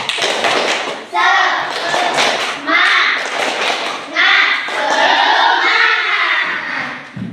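Children chant and clap together in a classroom in rhythmic bursts, loud and close, with a teacher's voice leading between the claps.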